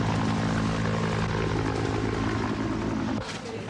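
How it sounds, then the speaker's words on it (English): Helicopter rotors thrum steadily and loudly as rescue helicopters come up a valley after an earthquake, a continuous low throbbing drone that eases off slightly near the end. "The sound of the first helicopters coming up the valley"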